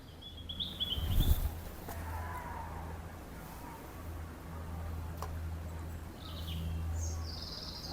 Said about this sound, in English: Lovely bird song.